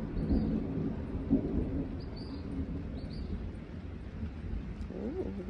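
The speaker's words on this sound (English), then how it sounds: "Oh, the storm is here." A thunderstorm rumbles on, low rolling thunder and steady storm noise continuing through, with faint bird calls above; no one speaks.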